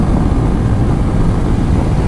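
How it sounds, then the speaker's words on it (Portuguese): A KTM Super Adventure 1290 S motorcycle rides at about 200 km/h. Roaring wind buffeting and a deep engine drone fill the sound evenly and loudly throughout, with no voices. "Dá uma olhada a facilidade que a moto tem para andar 200"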